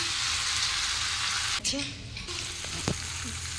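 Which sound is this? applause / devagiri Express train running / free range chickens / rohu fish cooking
rohu fish cooking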